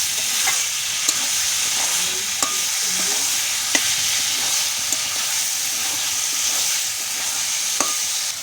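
Food frying and sizzling in a pan with water cooked off, stirred with a utensil that scrapes and taps against the pan at irregular intervals over steady loud sizzle, no voices.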